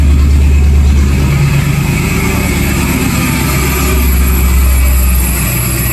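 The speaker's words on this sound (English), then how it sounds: "Sounds like it's got a supercharger, but it's just a bad alternator, I believe." A Ford Foxbody Mustang engine runs steadily up close, loud and droning, with a whine from a bad alternator riding over it throughout.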